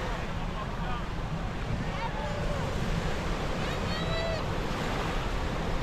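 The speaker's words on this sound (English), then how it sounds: "Oh, on the rocks, it rushes the water in." Ocean waves rush and wash continuously against rocks on the shore at Arecibo, Puerto Rico, a steady broadband roar with some wind noise and a faint voice in the background.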